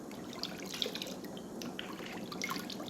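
Bath water drips and splashes softly in a tub, scattered light plinks and trickles spread steadily through the quiet, close and gentle with no voices.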